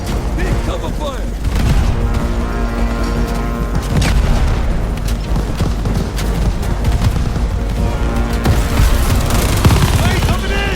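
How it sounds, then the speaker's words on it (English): Light machine gun firing in the Call of Duty Vanguard video game, loud continuous bursts of rapid gunfire mixed with booms and battle noise, with shouted voices over the shooting. "Use that LMG. Keep shooting"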